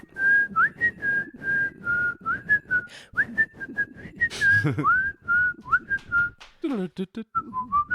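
A person whistles a lively tune up close, the melody steady and clear, with brief bursts of other sounds and speech mixed in near the end.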